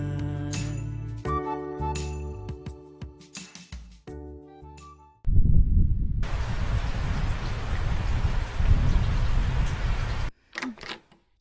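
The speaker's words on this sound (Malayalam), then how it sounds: "നല്ല മഴ അല്ലേ?" Heavy rain comes in as a dense, loud, continuous hiss for about five seconds after a short musical passage, then stops abruptly.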